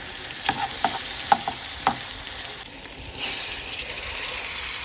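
Onions frying in oil as a topping for manti, a continuous close sizzle with a few sharp utensil clicks early on, then a fuller, louder hiss in the second half, without voices.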